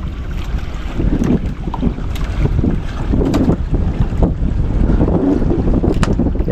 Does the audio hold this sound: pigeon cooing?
no